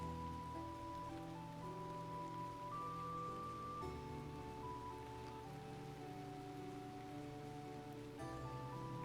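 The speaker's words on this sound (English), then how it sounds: "It is raining out here." Steady rain falls in the fantasy video game Shroud of the Avatar, a continuous wash of patter heard alone throughout, with layered game music tones running alongside.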